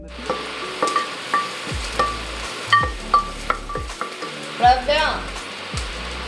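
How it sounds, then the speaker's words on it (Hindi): Moong dal tadka sizzling in a pan in a home kitchen, a steady fry hiss broken by repeated clinks and taps of a utensil stirring against the pan, close and moderately loud. "और यहाँ तड़का बनने के लिए चढ़ा देते हैं"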